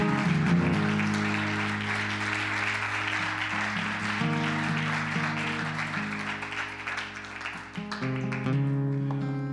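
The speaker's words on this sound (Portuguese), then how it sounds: "Você pode aplaudir isso bem forte?" A church congregation claps loudly beneath sustained organ or keyboard chords, the applause a steady rustling wash that runs through the whole stretch while the music carries on.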